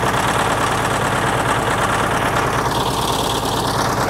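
International TD15 crawler diesel engine idling with a bad injector, a loud, close, steady low rumble with a rough, uneven knocking pulse throughout.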